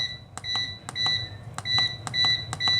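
Repeated short electronic beeps from a food dehydrator timer being set, arriving in quick pairs and small bursts at a steady pace over a faint low hum.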